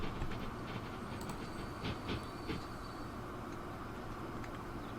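Steady rumble of a train rolling on rails in the Transport Fever 2 simulation game, a constant dense roar with faint clicking wheel beats and light hiss, with no voices.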